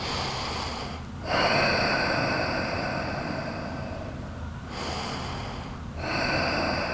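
Slow, deep breaths during a yoga shoulder stretch for grappling, long airy exhales heard close and alone, with two short pauses between breaths.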